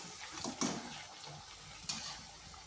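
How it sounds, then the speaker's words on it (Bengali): Semolina sweets fry in hot oil with a low, even bubbling sizzle, close and fairly quiet, broken by a couple of sharp clinks as they are stirred. "এইভাবে আমি সবগুলো ভেজে নিচ্ছি"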